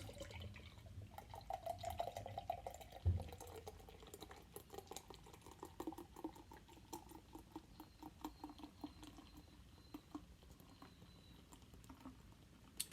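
A can of Elsie milk stout is cracked open with a sharp hiss and then poured hard into a pint glass, giving a soft foamy pour followed by faint crackling and patter as the nitro head settles.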